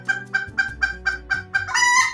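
A pet chicken crows repeatedly like a rooster, about eight close, loud, evenly spaced calls that ramp up into a longer, harsher cry at the end.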